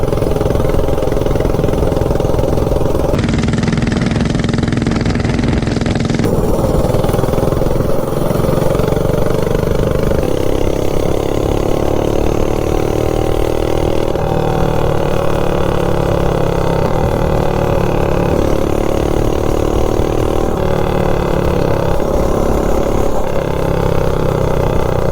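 A minibike engine fitted with a 5-foot intake runs steadily, giving a loud, close, continuous buzzing drone with a few small shifts in pitch and tone.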